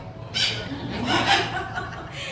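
A performing bird in an amusement park bird show gives harsh, raspy squawks, near and moderately loud, with a chuckling quality and a person talking around it.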